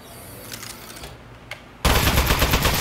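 An Aperture Science turret opens fire in the video game Aperture Desk Job, bursting into a loud, sustained rapid-fire stream of shots after a brief quieter lead-in.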